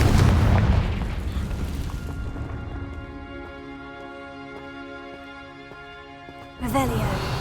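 A Confringo fire spell bursts with a loud boom in a Hogwarts wizard video game, then decays into a ringing, chiming magical tail before a second sharp burst near the end; a voice calls out the spell.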